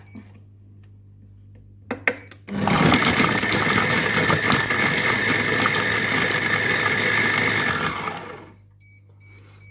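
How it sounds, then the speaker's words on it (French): A Compact Cook Pro food processor runs a five-second burst at speed 5, chopping shallots with a loud, steady whirring roar. Short clicks come before it, and after it stops there are a few quiet beeps. "Je vais mettre les échalotes à l'intérieur. Je vais fermer mon couvercle et je vais mettre 5 secondes à vitesse 5."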